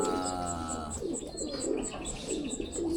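Pigeons in a loft coo steadily at feeding time, with low, rolling coos close by, high chirps and a bird whistle over them, and continuous background noise.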